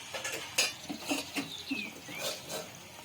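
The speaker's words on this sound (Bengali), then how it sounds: "আমি একে একে মাছগুলো দিয়ে দেব ভাজবার জন্য" Katla fish pieces are slid one by one into hot oil in a pan. A soft, steady sizzle runs under scattered clinks and scrapes of utensils.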